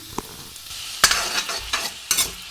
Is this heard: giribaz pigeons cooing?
no